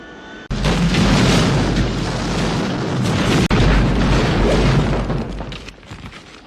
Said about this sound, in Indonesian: Pilotnya tewas dan kapal itu jatuh meledak.